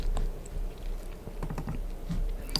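Computer keyboard keys pressed in a quick, irregular series of soft clicks close to the microphone over a low steady background hum.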